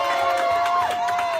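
Crowd noise outside the opening of SHEIN's first store in France, in Paris, a steady, loud wash of many voices with rising cheers and shouts throughout.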